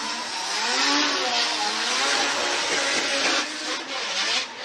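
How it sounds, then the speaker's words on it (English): A four-rotor twin-turbo rotary drift car revs hard during a Formula D competition run, with Tetsuya Hibino at the wheel. The loud, wavering engine howl rises and falls continuously and carries a broad roar and hiss throughout. "That four-rotor twin turbo is doing all the talking"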